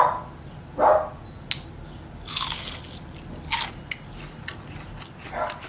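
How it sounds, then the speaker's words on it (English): Several crisp, crunchy bites of fried fish nuggets in quick succession, close up, with short pauses of chewing between them and no talking. "Did you hear that crunch?"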